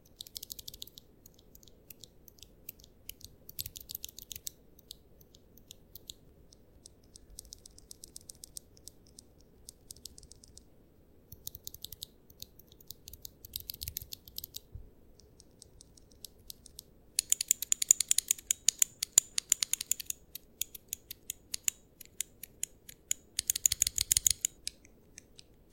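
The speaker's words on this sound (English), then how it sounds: "here's the sound test of the difference between lubed Holy Pandas and unlubed Holy Pandas" Mechanical keyboard fitted with Holy Panda switches, compared in lubed and unlubed form: bursts of rapid, crisp key clacks with brief pauses between runs, close and clear, growing sharper and louder in the later stretch.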